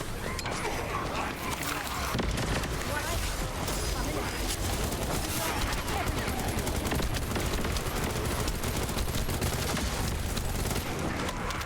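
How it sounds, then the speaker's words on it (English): Airstrike suppressing fire in Starfield, a dense, continuous barrage of rapid gunfire and explosions that rumbles steadily throughout, with talk faintly mixed in. "Holy airstrike."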